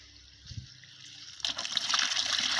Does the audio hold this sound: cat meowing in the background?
no